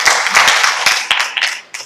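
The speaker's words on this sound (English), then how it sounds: "Let's clap for them." Audience applause at an official launch of a location intelligence system, a short burst of clapping from a gathered crowd that stays fairly steady and fades slightly toward the end.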